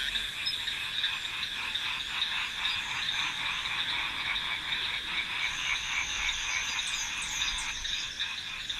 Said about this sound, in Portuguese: Mais de 300 espécies de sapos ocorrem em Madagascar e as florestas tropicais são estufas de diversidade.